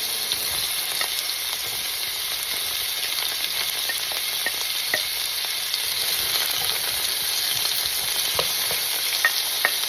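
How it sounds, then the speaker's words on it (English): Vegetables sizzle and fry steadily in a hot pan for about ten seconds, with scattered scraping taps from stirring throughout and no talking. "Let's heat it up the vegetable first"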